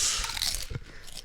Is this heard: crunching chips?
yes